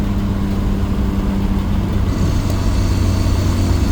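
A cheap turbocharged Honda Civic on its first drive hums with a steady, loud, mid-pitched engine drone that stays constant throughout, close up and with no talk over it.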